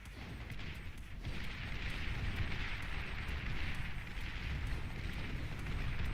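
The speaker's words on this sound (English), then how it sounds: "You can see how those rocket bots just getting absolutely annihilated by a single Janus rocket" Janus rocket explosions tear through rocket bots in the Beyond All Reason strategy game: a continuous, muffled rumble of blasts and crackling impacts, quiet and distant, with no talk.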